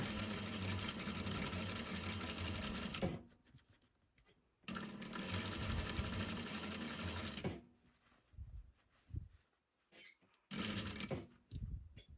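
Sewing machine stitching a single welt pocket and backstitching at the seam ends, running in loud steady bursts of about three seconds separated by pauses, then a few short stops and starts with soft handling noises between.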